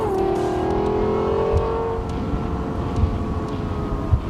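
A Lexus LFA Spyder drives on a race track, its engine note a smooth sustained drone that rises slightly, loud and close, with faint bumps and clicks underneath.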